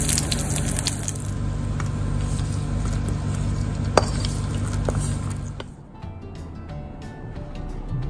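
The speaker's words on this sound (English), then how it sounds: "Now I'll be adding to this raisins or kishmish. Just give it a quick stir" Nuts and raisins fry in a pan and are stirred for palada, with a wet sizzling hiss, scattered clinks of a spoon and one sharp knock, before the frying dies down to quieter crackles.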